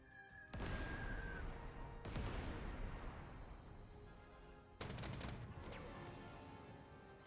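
Bombs and artillery strike in the Panzer Corps 2 video game: three loud crashing explosions with long rumbling tails, the first two close together and the third after a short lull, with no speech.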